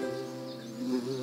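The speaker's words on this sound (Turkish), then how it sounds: "Arı, bu arılar beni takip ediyor." Bees buzzing around in an animated cartoon, a steady droning hum with a slight wavering pitch, close and clear with no talk.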